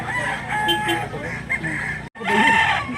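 A stag rooster, a young black-legged fowl, crows loudly and close at hand while a person talks and other chickens cluck nearby, with a short break before a second crow starts.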